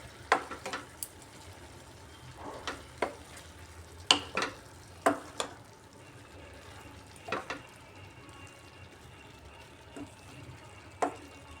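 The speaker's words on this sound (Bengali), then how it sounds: "এবার ঢাকাটা সরিয়ে মশলাটা ভালো করে মিক্স করে নেব আলুর সাথে" Spinach and potatoes cooked down with spices in a pan, stirred with soft sizzling underneath and a scattering of quiet scraping and clinking strokes at irregular intervals.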